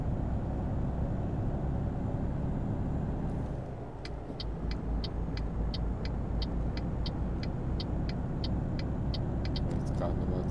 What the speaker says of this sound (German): Schön V8 Diesel